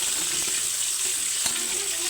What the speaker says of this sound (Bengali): তেলটা গরম হয়ে গেছে দিয়ে দিব এই সোয়াগুলো সোয়াগুলো একটু লাল লাল করে ভেজে নিলাম